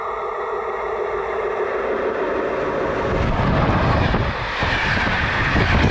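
Inside a train in Croatia on a 30-kilometre ride, a loud, steady rumble of wheels and carriage fills the space, with the low roar growing rougher and heavier partway through.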